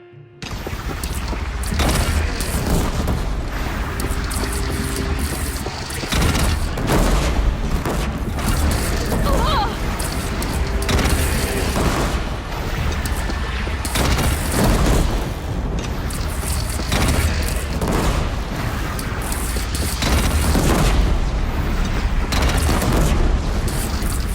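Cannon fire and explosions boom repeatedly during a bandit battle in the video game Horizon Zero Dawn, with loud, heavy blasts spread throughout a dense battle din, and voices shout over them.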